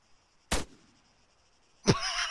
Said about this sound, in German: Schießt er uns von hinten nieder.